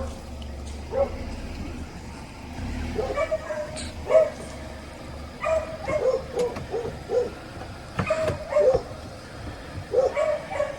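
A dog barks and yips in scattered bursts over a low rumbling background at a hog farm pond in the Everglades at night, some barks sharper and louder than others, at moderate distance.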